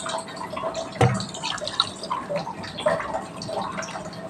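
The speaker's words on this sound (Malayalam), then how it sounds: "കുതിർത്ത് വെച്ചിരിക്കുന്ന കുടംപുളിയാണ് ഇത് അതിൻ്റെ വെള്ളം ആദ്യമേ ഒഴിച്ചു കൊടുക്കുന്നത്" Soaked kudampuli (Malabar tamarind) water is poured into a clay pot for a fish curry, heard as close, irregular splashing and dripping with a sharp spill near the start, with no talking.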